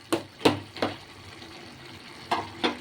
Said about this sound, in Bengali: এগুলো খুন্তি দিয়ে একটু মিশিয়ে নেব, ভালো করে